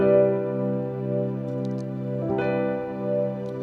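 A sustained 1 chord on a keyboard, rich and steady, with a soft re-articulation midway as notes are restruck, heard alone and fairly quiet.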